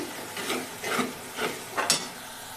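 Masala spice paste cooking in oil for a chickpea curry, with four soft scraping stirs and faint sizzling spaced through a quiet stretch, no talking.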